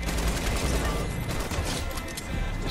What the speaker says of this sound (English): All right, minigun.